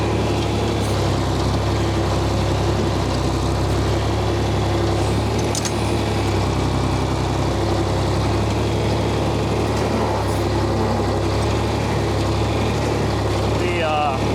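Tractor engine with a clutch rebuilt years ago, running at a steady rumble throughout, close and fairly loud, with a faint voice talking over it at times.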